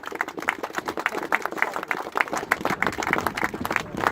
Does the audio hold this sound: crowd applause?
yes